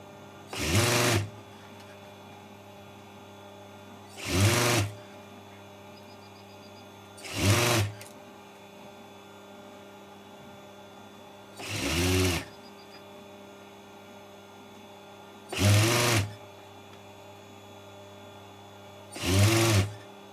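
Sewing machine stitching shorts, running in six short bursts of about a second each separated by pauses of roughly three seconds, close and loud over a steady electrical hum.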